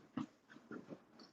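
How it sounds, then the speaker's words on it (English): Dogs inside a house give a few short, faint, muffled barks and grumbles in the background, spaced irregularly over a quiet room. "that's my dogs"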